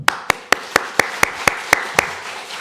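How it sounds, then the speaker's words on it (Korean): Congregation members at a Sunday church service clap together in a steady rhythm, about nine sharp, evenly spaced hand claps, fairly close and alone with no talking. "여러분도 박수 한번 쳐봐요"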